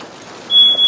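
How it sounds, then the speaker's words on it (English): A smoke detector sounds in a kitchen during a fire department safety demonstration: a steady, piercing high electronic tone starts midway and holds loud and continuous over a faint background hum. "did you all hear that smoke detector going off?"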